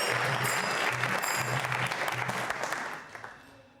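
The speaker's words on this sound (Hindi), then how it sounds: "जोरों से तालियां बजाइए आप।" A crowd at a religious quiz show event claps strongly in a dense, sustained ovation that gradually thins and fades toward the end, with a low repeating musical tone underneath.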